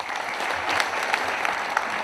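An audience at a civic education ceremony in Naju applauds steadily, a dense wash of clapping at moderate distance with no voices over it.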